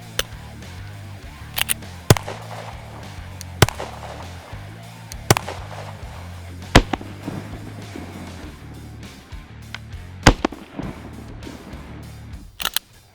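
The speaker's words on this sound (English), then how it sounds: "let's go ahead and get some shots on target and see where we're at" Handgun shots fired at a cardboard target while sighting in a red dot, about ten sharp, loud reports spaced irregularly over steady outdoor background noise, with no talking.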